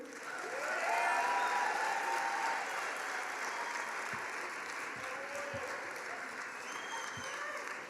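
Graduation ceremony audience applause, a thick continuous wash of clapping from a large crowd with scattered high calls and cheers over it, steady and fairly loud from start to finish.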